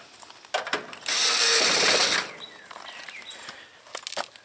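Screws being tightened on a heat pump access panel, a short burst of power-driver whir followed by faint ratcheting clicks, quiet and close.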